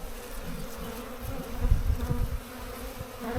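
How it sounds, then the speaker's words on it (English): Honeybees hum steadily in a dense, continuous low drone at an opened hive during an inspection, close and fairly soft, with no talk. "Again, nice populations of bees."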